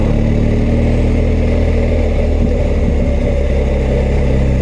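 A BMW R1250GS motorcycle engine runs steadily close by, a continuous low mechanical drone with a slight surge in revs partway through, with no talking over it.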